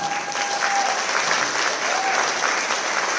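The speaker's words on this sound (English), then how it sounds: "you guys better clap for him" A crowd claps steadily for a former athletic director at a memorial gathering in a Farrington High School auditorium, a dense, even wash of applause that fills the whole moment.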